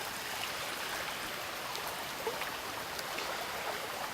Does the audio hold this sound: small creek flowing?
yes